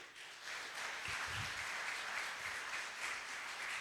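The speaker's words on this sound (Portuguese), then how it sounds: "Você pode dar um aplauso," Church congregation applauding during a Portuguese-language sermon, a steady wash of clapping from many hands at moderate level, with a few low thumps underneath and no voice over it.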